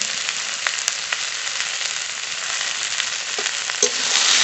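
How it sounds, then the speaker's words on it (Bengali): Spices with salt and turmeric fry alongside onion, eggplant and potato in a pan for a village-style dish, making a close, steady sizzle with a few stirring clicks. "এবার একটু ভালো করে কষিয়ে নেব মশলার সঙ্গে পেঁয়াজ বেগুন আলু ভালো করে ভেজে নিয়েছি"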